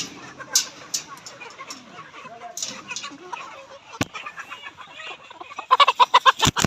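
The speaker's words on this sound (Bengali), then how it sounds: "আমি একটু মুরগিটাকে একটু দেখাই খাঁচাটা খুলে" Layer hens cluck in short, scattered bursts from an opened cage on a poultry farm, growing into a quick run of clucks near the end, with a person speaking in between.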